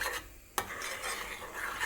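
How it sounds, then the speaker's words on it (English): A spoon scrapes and stirs a turmeric cashew latte heating in a pan, giving a steady close rasping swirl with one sharp clink against the pan partway through. "Keep stirring it"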